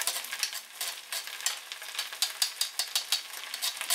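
Food sizzles in a hot pan, a crackling hiss with rapid popping bursts, close and steady, stirred now and then.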